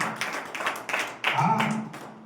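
A church congregation clapping, scattered irregular claps that swell into a louder, denser stretch, mixed with a voice speaking over them.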